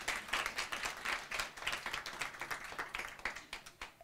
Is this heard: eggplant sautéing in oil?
no